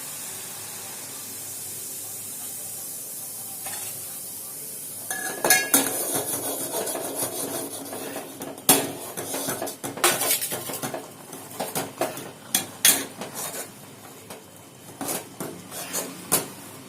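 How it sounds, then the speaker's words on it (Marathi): Metal spoon scraping and clinking against a pot in repeated strokes as rice flour is mixed into boiled water, with a steady background hiss, growing busier and louder partway through. "आपण गॅस कमी करून त्यात पीठ मिक्स करायचं"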